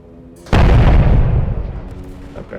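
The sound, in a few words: 14-inch gun firing in Beach Invasion 1945 video game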